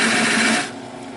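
A rough workpiece on a lathe is hand-smoothed, giving a loud broadband rasping rub that runs steadily for about half a second, then drops to a softer hum as the contact eases off.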